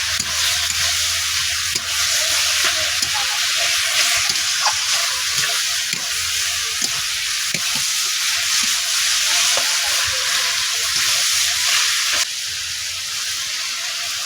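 Cumin and coriander powder stirred into ash gourd frying with shrimp in a pan, a steady loud sizzle with intermittent scraping of a spatula throughout, no talking.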